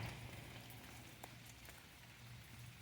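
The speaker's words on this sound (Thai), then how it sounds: "ฝนตกเปาะแปะเปาะแปะ" Light rain patters steadily and faintly outdoors during a rainy search for black mud crabs, with scattered soft drops over a low background hum.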